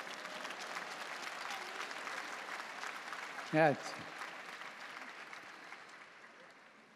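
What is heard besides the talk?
audience applause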